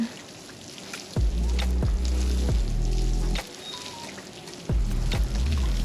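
Spring onion and coriander plants in a garden bed by a house being watered, three separate bursts of water pouring and splashing onto soil with quiet trickling gaps between them.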